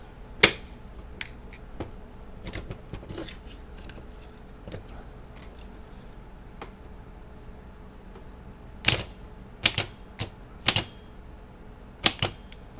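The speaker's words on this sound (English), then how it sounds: "when you activate the solenoid, the spline goes in, which gets in contact with the flywheel" A car starter motor's solenoid engages, driving the pinion spline toward the flywheel, giving sharp metallic clicks: scattered single snaps early, then a tight cluster of loud clicks near the end over a quiet background hum.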